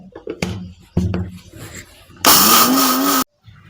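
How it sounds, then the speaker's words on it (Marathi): Mixer grinder grinding coriander seeds into powder in a home kitchen, a loud whirring burst of about one second that cuts off abruptly, following some brief clattering and someone speaking. "तर चला आपण मस्त आता हे बारीक करून घेऊया."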